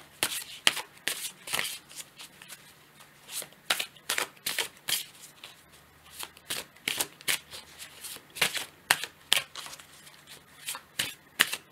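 A deck of cards is shuffled during a card reading, with repeated crisp riffling bursts in an uneven rhythm, close and clear with no speech.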